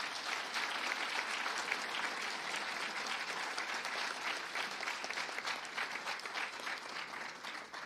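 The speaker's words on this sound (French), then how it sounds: "On peut les applaudir, s'il vous plaît." Broad, steady applause from a large audience at a university graduation ceremony, a dense wash of clapping that holds evenly throughout and tapers only slightly at the end.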